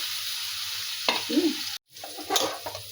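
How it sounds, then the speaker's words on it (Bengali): Eggplant frying in a kadai alongside sautéing greens, a steady close sizzle with a stirring scrape near the middle and a brief dropout before the frying resumes. "বেগুনটা ভেজে নিচ্ছি।"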